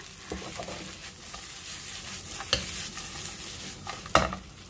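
Spicy catfish stir-fries with kaffir lime leaves, red chili and fingerroot, a steady close sizzle broken by the scrape and clack of stirring, with a sharp burst near the end and no talking.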